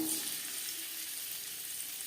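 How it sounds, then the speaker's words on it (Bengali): Paneer cubes frying lightly in mustard oil in a kadai, giving a steady close sizzle with soft crackle that fades slightly over the short stretch, with no talking. "সবার প্রথমে আমি পনির হালকা করে ভেজে নেব।"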